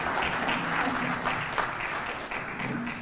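Applause fills a white coat ceremony hall, a dense, steady crowd clapping that stays loud throughout with little variation.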